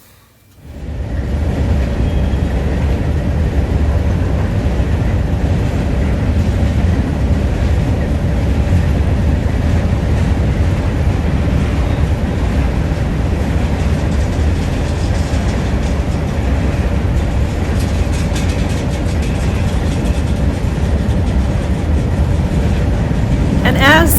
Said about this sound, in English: as Challenger 3985 heads across the Midwest to be restored, the old locomotive has a few old friends following along